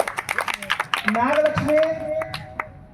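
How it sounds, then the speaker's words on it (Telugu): Children clap their hands at a Sunday school lemon-and-spoon game during a semi-Christmas celebration: a quick burst of uneven claps opens, then a voice speaks over faint room sound. "చప్పట్లు కొట్టండి"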